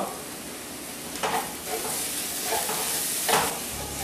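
Curry leaves hit hot oil in a pan while making green pepper chicken, giving a loud, even sizzle with a few bursts of stirring and spitting.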